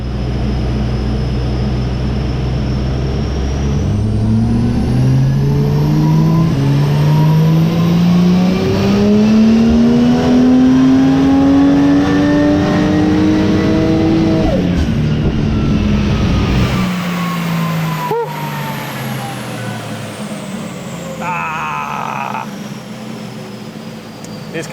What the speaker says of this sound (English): I'm putting it back on the dyno now to run it up after the built transmission's in it